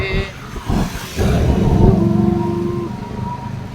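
Cars passing on an outdoor road, picked up by an Oppo A98 5G phone microphone; a steady, fairly loud traffic rumble swells after the first second and carries on, with faint voices in the background.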